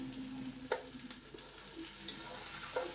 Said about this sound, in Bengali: একটু ভাইজে নিই।